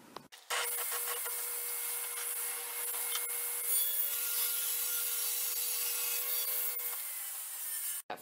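A saw blade rips steadily through a piece of white wood while trimming lumber, one continuous close, loud cut lasting several seconds before stopping abruptly.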